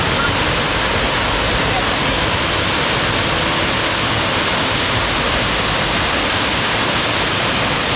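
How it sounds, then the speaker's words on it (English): Roaring waterfall beside a Mount Kenya hiking trail, a loud, dense, unbroken rush of falling water close by that fills the entire stretch without letup. "The waterfall."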